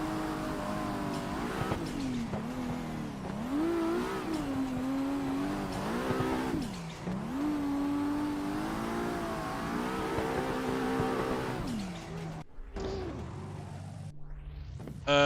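Toyota Supra engine in the Assetto Corsa driving sim, drifting, with a loud, continuous revving drone whose pitch rises and falls as the throttle works, ending in a cut to quieter, shifting engine tones near the end.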